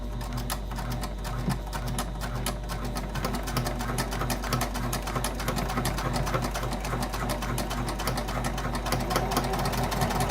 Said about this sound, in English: I am sewing on an Elnita by Elna. The model is the EF1.